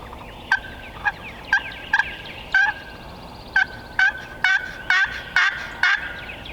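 A wild turkey gobbler in the southeastern woods gobbles repeatedly, about a dozen loud rattling calls in quick bursts, fairly near and carrying clearly over a quiet background with no talk.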